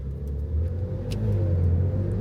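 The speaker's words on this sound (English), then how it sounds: "I'll just close exhaust valve here. Because otherwise it makes too much noise." A tuned 707 hp rear-wheel-drive BMW M4 Competition, Stage 1.5, idles with its exhaust valve closed, giving a steady, muffled low rumble that swells slightly and holds close by, with no talking.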